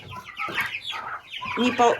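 Chicks and young poultry cluck and cheep at close range around a broken feeder in a backyard pen, a busy overlapping chatter of short calls with a voice faintly present.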